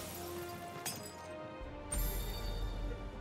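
Potion use in Final Fantasy XVI, a glass shattering effect: two quick bright crashes, the second followed by a lingering tinkle over soft background music.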